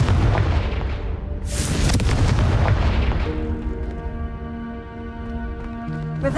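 A Confringo fire spell from Hogwarts Legacy bursts with a loud, sustained blast and rumble, followed by a humming tonal tail as the blaze settles.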